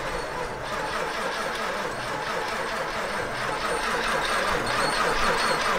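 A military vehicle's engine cranks on its starter motor in a continuous, even churning rhythm for several seconds without catching, loud and close.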